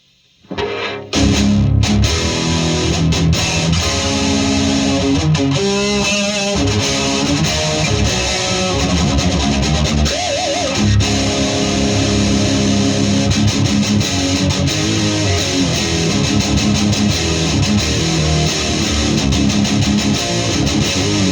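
A Randall RH100 G2 guitar amp head on its distortion channel, gain 1 setting, roars with a thick, sustained distorted electric guitar playing chords and riffs, loud and continuous from start to finish with no talking.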